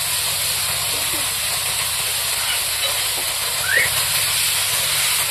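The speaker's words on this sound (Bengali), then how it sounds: "মশলাটা ভালো করে ভেজে নেব। টমাটো কুচিটা দিয়ে নেই।" Ginger spice paste with chopped tomato frying in a pan, giving a loud, steady, unbroken hiss that carries on throughout without pauses.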